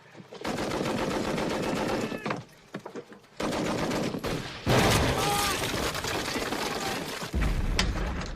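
Battle gunfire in a First World War film, rapid machine-gun bursts and volleys crackling loudly, with brief pauses between bursts and shouted voices mixed in.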